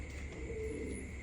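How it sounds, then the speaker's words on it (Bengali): Domestic pigeons of several breeds kept for sale cooing close by, a low soft coo over a faint steady background hum. "বিভিন্ন কোয়ালিটির কবুতর আছে।"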